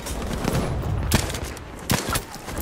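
Gunfire in Battlefield 5 from medic-class carbine sniper rifles, with loud sharp shots at irregular intervals over a constant noisy battlefield backdrop, heard close.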